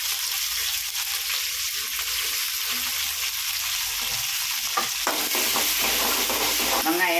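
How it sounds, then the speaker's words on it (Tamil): Small onions and tomatoes sauté in a pan for sambar with a continuous loud sizzle, while a spoon stirs and scrapes through them more actively toward the end. "வெங்காயம், தக்காளி எல்லாம் வதங்கிடுச்சுப்பா."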